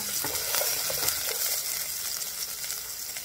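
Onions sautéing in a hot pan give a steady, dense sizzle that runs unbroken from start to finish, close and fairly loud, with a few soft stirring scrapes and no voices.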